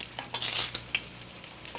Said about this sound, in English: You can hear the oil sizzling, so it's nice and hot.